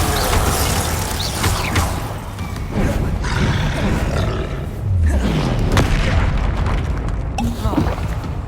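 Confringo fire-spell blasts go off in Hogwarts Legacy combat: heavy booms and roaring whooshes in repeated bursts over a dense, noisy game soundscape, with other spells cast in between.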